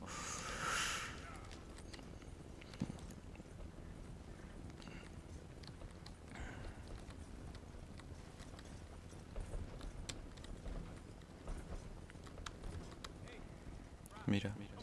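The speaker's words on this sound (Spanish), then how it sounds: "Mira, jinetes vienen hacia nosotros." Horses in Red Dead Redemption II clip-clop and snort as riders approach, hoofbeats steady and fairly faint under a quiet background, with someone talking at times.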